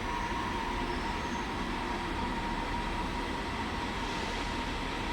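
A Trenitalia regional train at Venezia Mestre station makes a steady, moderately loud rumble with a faint tonal hum, holding even for about five seconds with no voices.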